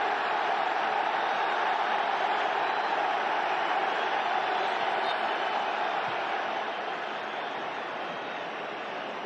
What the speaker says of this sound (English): And listen to this crowd in Monterrey.